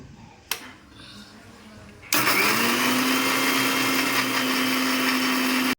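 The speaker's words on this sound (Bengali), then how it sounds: "পেস্টটা মিক্সিতে দিয়ে নেব।" After a short thump and a quiet pause, a mixer grinder starts abruptly and runs with a loud steady whine, grinding white mustard, poppy seeds, three green chillies and a little water into paste.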